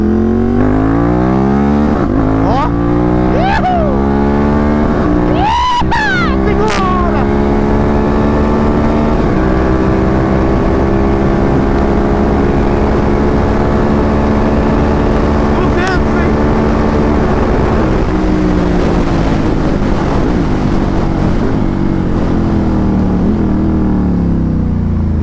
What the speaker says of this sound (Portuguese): Antes dela cortar, ela dá um pulso e troca de marcha.